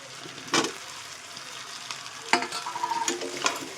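Potatoes dropped into a pan of frying crab curry, with a couple of sharp sizzling bursts and stirring scrapes over a quiet background.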